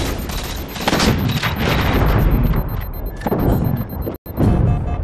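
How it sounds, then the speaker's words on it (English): Shotgun blasts and gunfire from a Halo 4 capture-the-flag doubles match, dense overlapping shots with booming impacts, loud throughout and breaking off briefly near the end. "Showing off some mad shotgun skills there."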